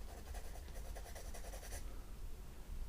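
A pencil sketches and shades on paper in a run of quick, rhythmic scratching strokes. It is close and soft, then the strokes stop and only a quiet room remains, with no speech.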